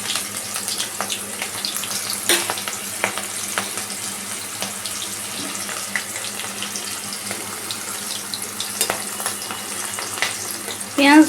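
Onion sizzles and crackles in a hot pan with cumin over a low flame, a loud, continuous frying hiss broken by sharp pops and the occasional stir, with no talking.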